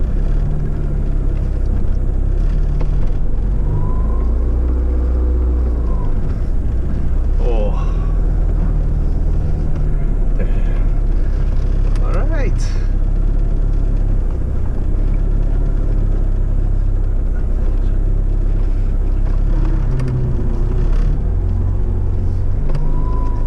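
A Lancia Delta Integrale's engine, just started, keeps up a low steady rumble from inside the car, with a few faint revs, while people talk over it throughout.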